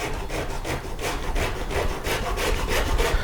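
Rhythmic rasping strokes as a flame maple guitar top is flattened and carved by hand, a steady back-and-forth scraping about four strokes per second, close and alone.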